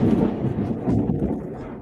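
Thunder following a lightning flash rumbles low and heavy throughout, a continuous rolling boom with two swells and no voices over it.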